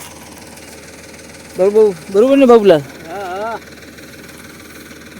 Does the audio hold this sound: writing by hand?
no